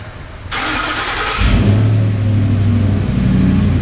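A starter cranks briefly, then an engine with a newly replaced timing chain catches and settles into a steady, loud idle nearby.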